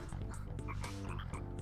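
A frog croaks repeatedly in the video game Chibi-Robo, a steady run of close, rhythmic croaks over low game music with no talking.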